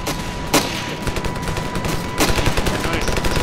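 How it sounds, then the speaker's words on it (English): Assault rifle gunfire in the Ravenfield video game, with sharp shots and bursts cracking over a dense, continuous battlefield din of rapid fire, including two especially loud reports. "They will actually take out their assault rifles and actually shoot at you, making you take cover."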